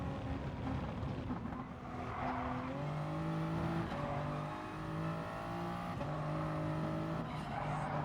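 Group 3 race cars in Gran Turismo Sport scream along a track in a close pack, engines rising and shifting through gears with overlapping whining tones and occasional tire squeal, moderately loud throughout.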